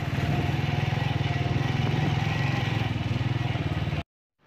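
A motorcycle climbs a dirt road toward a hilltop near Gilgit, its engine thrumming steadily and loud close up for about four seconds before cutting to silence.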